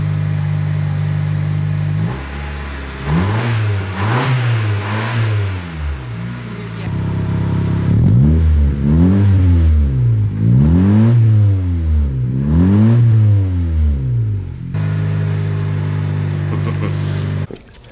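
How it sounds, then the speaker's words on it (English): A Honda Civic fitted with an Invidia N1 exhaust revs repeatedly, climbing and falling in a series of loud, close throttle blips between steadier idle stretches. "There, you can rev it."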